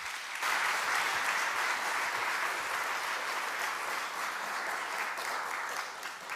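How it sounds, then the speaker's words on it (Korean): Congregation applauding during an evening church service: steady, dense clapping from a crowd at moderate distance, sustained for several seconds before tapering off. "전도사님 나와 계시는데 박수"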